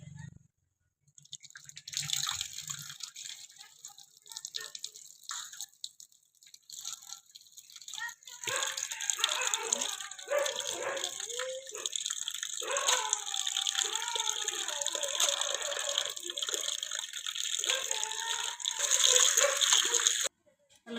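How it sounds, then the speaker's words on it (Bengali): Shankar fish rinsed in cold water, a faint trickle at first, then a steady gush of running water with splashing and handling in a bowl, moderately close, with brief talk. "এবার ঠান্ডা জলে ধুয়ে নেবো"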